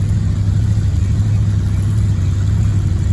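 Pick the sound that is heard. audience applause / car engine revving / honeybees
car engine revving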